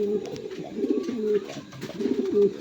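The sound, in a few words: pigeon cooing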